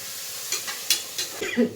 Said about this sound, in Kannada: ಈರುಳ್ಳಿ ಇದಿಷ್ಟು ನೀಟಾಗಿ ಸ್ವಲ್ಪ ಬ್ರೌನಿಶ್ ಬರೋ ತನಕ ಬಾಡಿಸ್ಕೊಳ್ಬೇಕು ಎಣ್ಣೆಲಿ